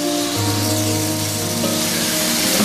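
Chicken liver fries in a pan with chili flakes, crushed black pepper and turmeric, giving a loud, close, steady sizzle with a constant crackling hiss throughout.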